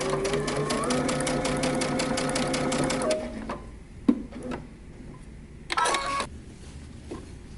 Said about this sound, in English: start stitching along your dart lines